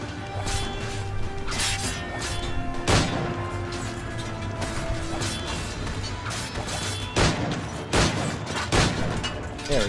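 Pistol shots and battle clashes in Assassin's Creed IV, several sharp loud cracks standing out over a busy layer of fighting noise, with scattered impacts throughout.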